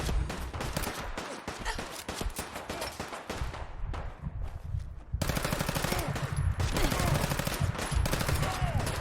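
Rapid assault rifle fire in the video game Fallout 4 rattles in long, dense bursts, close and loud, with the shooting growing heavier and more continuous partway through.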